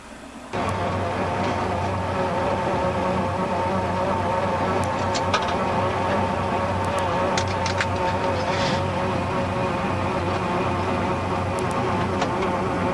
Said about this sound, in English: We're inside Joel Nystrom's 67 Hemi GTX.